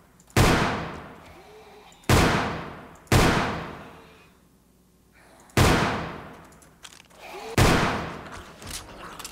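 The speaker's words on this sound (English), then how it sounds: "Listen to that fucking pistol sound." .45 ACP pistol shots in 7 Days To Die crack out as five loud, sharp single reports spaced one to two seconds apart, each ringing off in a long decaying tail.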